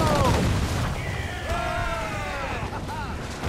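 Ship cannons fire in Assassin's Creed IV Black Flag, a heavy boom opening the clip and further rumbling blasts following, heard under shouting voices of the crew.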